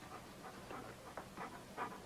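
Dog panting in quick soft breaths with brief whimpers mixed in, faint and close, rhythmic puffs over a quiet background.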